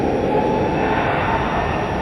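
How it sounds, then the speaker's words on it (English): Frontier Airbus A321neo at DFW Airport at night, heard as a steady, loud, unbroken engine roar with a faint whining edge, no voices. "Airbus making that wookie noise."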